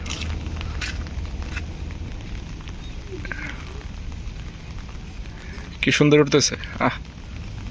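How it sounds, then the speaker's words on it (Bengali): Light, steady rain falling outdoors, a constant soft hiss throughout, with someone speaking briefly over it near the end. "বৃষ্টি মৃদু মৃদু পড়তেছে সারাক্ষণ, বন্ধ হয় না।"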